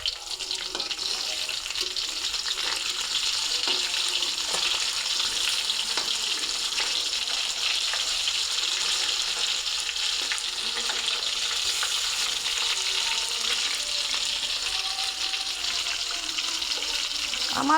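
Fish pieces fry in hot oil in a pan after being turned over, for a fish curry with cauliflower. A steady, even sizzle runs throughout at moderate level, with faint occasional clinks and no clear speech.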